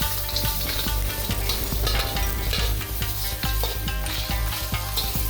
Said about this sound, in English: here we go in with the lobster and give it a quick toss around to let the ginger kind of infuse into the